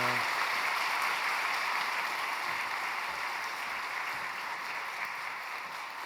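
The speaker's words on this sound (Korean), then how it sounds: "큰 박수 보내주십시오." A church congregation at a Sunday baptism service in Ulsan applauds the newly baptized members, a soft, even, rain-like patter of clapping that fades slightly toward the end.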